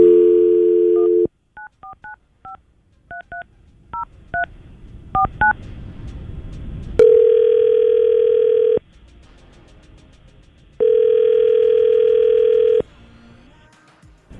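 A phone call being placed on a radio show: a string of DTMF keypad tones, then two long ringback tones with a pause between, loud and clear, with no voices.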